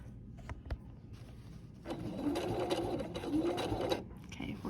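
A sewing machine stitches a crossbody bag with a rapid mechanical whir in short bursts, then runs in a longer steady stretch, close and fairly quiet, with no talking.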